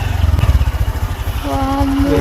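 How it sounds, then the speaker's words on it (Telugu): A motorcycle engine idles and putters close by as the bike is parked near the Gangapur watch tower in Telangana, a low throbbing that settles, then a brief higher tone near the end. "ఇక్కడ బైక్ పెట్టేస్తున్నాం"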